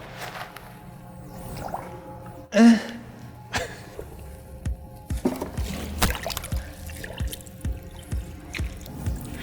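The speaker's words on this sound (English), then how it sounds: "So right now I'm letting my Wash Mitt soak and absorb all of the rinse free." A car wash mitt with a mesh scrubbing centerpiece soaks in a bucket of rinse-free wash solution in a garage, giving soft squishes, drips and trickles that rise and fall alongside one sharper splash as the mitt is squeezed.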